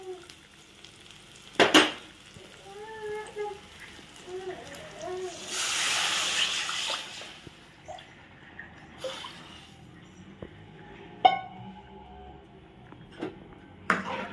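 Tamarind extract is poured into sautéed garlic and onion for crab gravy. A sharp burst of hissing sizzle follows, then a low simmer with occasional clinks of a stirring utensil, and a person talks at intervals.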